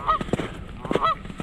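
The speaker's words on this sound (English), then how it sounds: "Focusing on the geese now." Geese honking on a winter hike, two or three clear nasal honks spaced about a second apart, fairly close and alone without talk.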